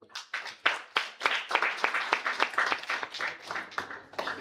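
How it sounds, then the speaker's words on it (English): Workshop audience clapping for a speaker, loud and close with sharp distinct claps at first that thicken into a brief round of applause before fading out. "Let us give a big round of applause for our speaker."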